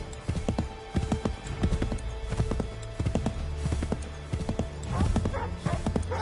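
Horse hooves clip-clop in a steady, lively rhythm as a rider travels in the Assassin's Creed 3 video game, the beats close and distinct over a low ambient hum, with faint snorts among them.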